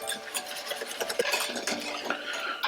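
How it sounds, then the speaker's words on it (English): An egg mixture for eggnog is whisked briskly in a bowl, with quick, fairly quiet clinking and scraping strokes in an uneven rhythm and no voices. "you want to keep whisking this until it starts to lighten in color"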